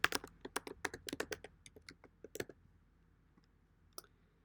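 An email address being typed on a computer keyboard: a quick burst of close, crisp key clicks that slows to a few scattered taps and one last click after a pause, with a quiet background.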